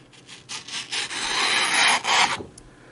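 A knife blade slices through heavy paper with a dry, rasping scrape, several short strokes building into one longer continuous cut, close up.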